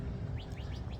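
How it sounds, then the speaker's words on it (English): Small birds chirp in a park, four quick rising tweets in a row, faint and fairly distant over low outdoor rumble. "Hear the birds?"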